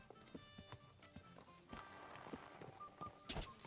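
Hooves clip-clop at a steady trot while a horse is ridden in a game, with irregular thuds scattered through the gait and the sound carrying moderately loud and fairly close.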